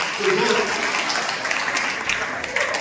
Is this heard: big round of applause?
yes